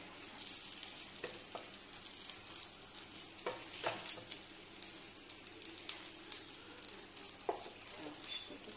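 Diet envelopes fry in a pan with a steady, close sizzle and crackle, broken by occasional sharp pops and spits throughout.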